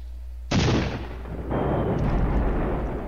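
Heavy guns firing in a tank battle in a war game, two loud artillery blasts about a second apart, each with a sharp crack and a long rumbling echo, no voices.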